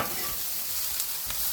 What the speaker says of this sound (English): The peppers and the onions, and just, oh, it smells so good cooking on the grill.